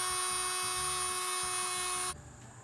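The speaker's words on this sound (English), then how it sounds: "We'll try cutting the hardy plank, which isn't wood, it's concrete based, with this oscillating tool." An oscillating multi-tool cuts concrete-based Hardie plank siding, giving a steady, loud high-pitched buzzing whine that runs on for about two seconds and then drops to a quieter, thinner tone.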